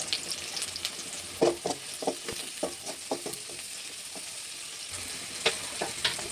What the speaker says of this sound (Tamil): எண்ணெயில் வெங்காயத்தை போட்டு வதக்கணும் வெங்காயத்தை போட்டு வதக்கிட்டு வ உப்பு போட்டு வதக்கணும்